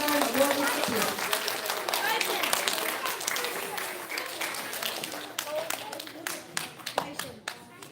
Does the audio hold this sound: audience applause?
yes